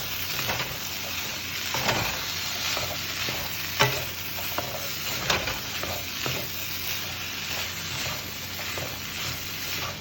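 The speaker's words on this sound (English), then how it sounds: "I'm going to let this saute for a few more minutes." Chickpeas and cauliflower pieces sauté in a single pot with a steady close sizzle, broken by occasional scraping stirs and a few sharper clinks, with no talking.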